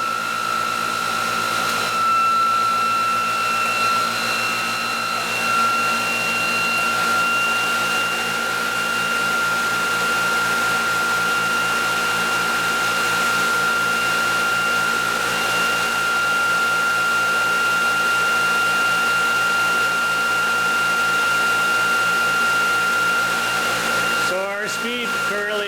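EV drive motor spinning at about 3,475 RPM on a test rig, a loud, constant high-pitched whine with a broad whooshing hum that holds steady for the whole stretch, with a brief clatter near the end.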